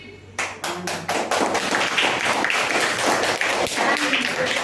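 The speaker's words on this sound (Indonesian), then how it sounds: "Tepuk tangan satu kali." A group claps in a quick burst of sharp hand claps during a classroom activity, followed by a dense patter of clapping that continues steadily to the end.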